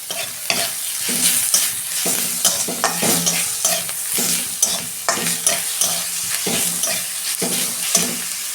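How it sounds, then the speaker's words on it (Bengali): Ginger-garlic paste fries with onions in a pan for a fish-head moong dal, a steady sizzle under brisk rhythmic stirring and scraping throughout, close and fairly loud, with no voices. "পেঁয়াজটা আমার ভাজা হয়েছে, আমি আদা রসুনের পেস্টটা দিচ্ছি"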